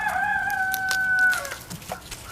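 A rooster crows once, a clear, close call holding a long sustained note before trailing off, with faint scattered noises after.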